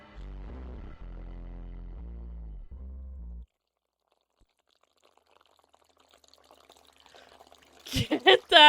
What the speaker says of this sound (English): Who is lapping up some water in my left ear?